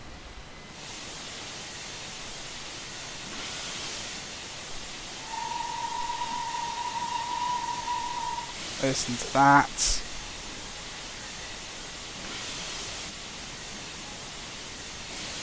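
A steam locomotive on the Riviera Line in the fifties, in Train Simulator 2021, lets off a continuous broad hiss of steam, joined midway by a sustained whistle-like tone and a few brief bursts, while someone speaks briefly.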